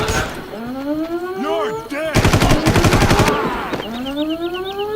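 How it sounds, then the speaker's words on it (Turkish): Gunfire in the game Far Cry: a rapid burst of automatic fire rattling loudly for about a second, set among whooping, sweeping game sound effects and tones before and after. "Her yerden sıkıyorlar ya."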